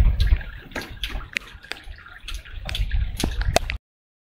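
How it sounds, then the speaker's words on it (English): Water drops tapping on a dictaphone's microphone mount in a freezing graveyard at night, a scattered series of small close clicks and drips over faint background rumble, ending abruptly. "It was unfortunately just drops of water hitting the microphone mount on the top of the dictaphone."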